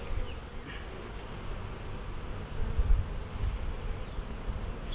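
Honey bees buzz in a steady, close drone inside an opened spring hive during colony inspection, with faint handling sounds beneath.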